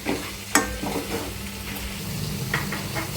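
Wheat semolina (rava) roasts in a pan over a medium-low flame, giving a soft, steady sizzle under occasional scraping stirs and one sharp clink of a utensil.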